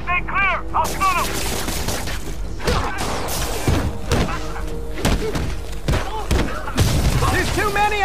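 Enemy gunfire in Marvel's Spider-Man, a rapid series of loud sharp shots and thuds crackling across the whole stretch, with shouted in-game voices calling out between and over the bursts.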